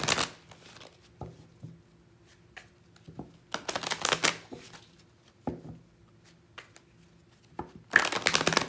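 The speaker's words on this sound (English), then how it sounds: "I'm going to pull the Oracle card. Let's pull an Oracle for this." Oracle cards being shuffled for a reading, with soft papery riffles and taps in several short bursts and a louder flurry at the end, heard alone without talk.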